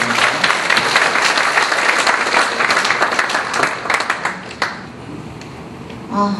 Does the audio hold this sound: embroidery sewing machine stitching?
no